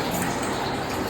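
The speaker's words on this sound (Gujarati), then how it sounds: "આરોનો અવાજ આવે છે પાણી ભરે છે" An RO water purifier fills with water indoors, making a brief, steady rushing flow at moderate level, with no talk over it.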